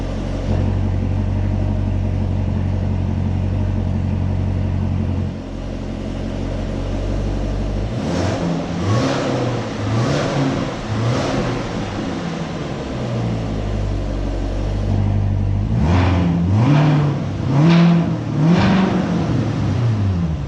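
A 2019 Chevrolet Corvette ZR1's exhaust drones steadily, then is toggled back and forth between loud track mode and quieter stealth mode, producing repeated swells of engine roar and rev pulses that alternate with subdued stretches while driving.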